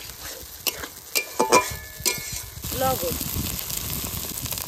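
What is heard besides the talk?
frying spices with hilsa head for banana flower curry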